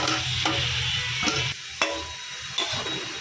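Chopped tomato goes into frying onions in a pan, raising a loud, close sizzle with several distinct scraping stirs of a spoon spaced about a second apart, and no one speaks.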